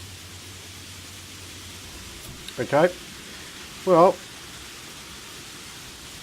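Rain falling in the survival game Planet Nomads, a steady soft hiss throughout, with a person briefly talking over it.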